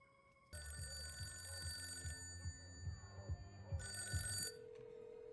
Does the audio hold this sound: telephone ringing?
yes